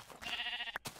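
Sheep bleating in the video game Minecraft, a single short wavering bleat heard clearly and close on its own, ending with a brief soft click.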